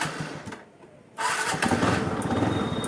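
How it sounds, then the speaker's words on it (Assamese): A TVS Ntorq scooter with a freshly changed spark plug cranks over briefly, falls quiet for a moment, then fires up and settles into a steady, close idle with no one speaking. "একবাৰ যেতিয়া আমাৰ এইটো হৈ যোৱাৰ পিছত আমি ইঞ্জিনটো ষ্টাৰ্ট দিম।"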